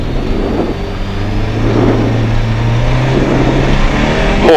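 A rally car revs hard and accelerates away at a mountain rally stage start, its engine note loud and steady and rising in pitch toward the end.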